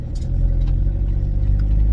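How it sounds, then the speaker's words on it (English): A van engine running low and steady close by as it is driven off after being stuck in mud, a deep continuous rumble with faint clattering over the top and no talking. "See if we can get the van moved."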